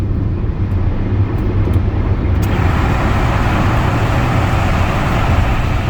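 A car driving on a main road into a tunnel gives a loud, continuous engine and road rumble that becomes enclosed and steady after a few light clicks, close and unbroken.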